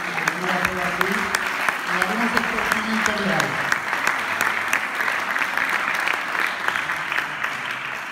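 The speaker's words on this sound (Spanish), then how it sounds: "por lo tanto, un fuerte aplauso para Ana." An audience at a school cultural-week award ceremony applauds steadily, a dense sustained clapping that fills the whole stretch, with a voice briefly audible at the start beneath it.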